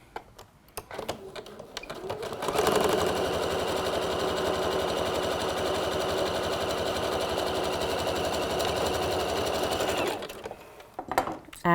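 A sewing machine runs a single continuous, even stretch of about eight seconds along the short edge of a trouser cuff, close and clear, with quiet handling noises before and after.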